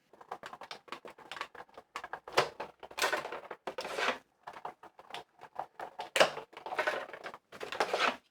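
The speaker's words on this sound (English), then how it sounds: "Let's go ahead and run these guys through the die cutting machine" A die cutting machine cranks card stock through, giving a close series of irregular clattering, crunching bursts separated by short pauses, with no voices.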